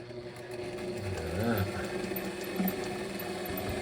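A freshly oiled Sailrite sewing machine runs steadily, its mechanism giving a continuous low mechanical hum and whir with faint rhythmic clatter, fairly quiet and unbroken throughout.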